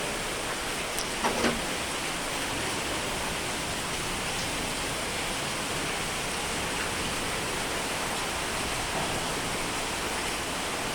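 A dense, continuous hiss of heavy rain pours steadily throughout, with no voices.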